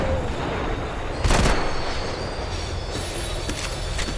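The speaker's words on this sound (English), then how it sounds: "The tram was slowing down." A tram in Max Payne 3 rolls and slows with a rumbling rail clatter, a sharp metallic clank, and faint high wheel squeals, close and continuous.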